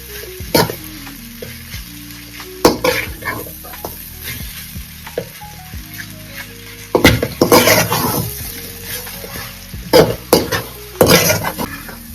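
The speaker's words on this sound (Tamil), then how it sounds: "செஷ்வான் சிக்கன் நூடுல்ஸ் நல்லா கலந்து விட்டு வேண்டியதான்" Schezwan chicken noodles being stirred and tossed in a hot pan, with scraping spatula strokes in bursts over a steady sizzle and occasional clinks of utensil against metal.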